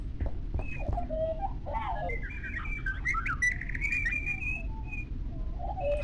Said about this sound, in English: Monkey birds. There's monkey birds in here,